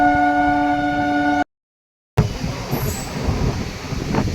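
A MEMU train runs from Lucknow Charbagh toward Amausi, first with a steady tonal horn-like hum, then after a brief silence a rumbling, clattering ride with faint high squeals.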